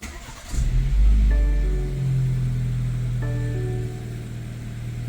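A 2021 BMW X3 (G01) engine cranks and catches, revving briefly before settling into a steady idle with a whining tone rising over the hum.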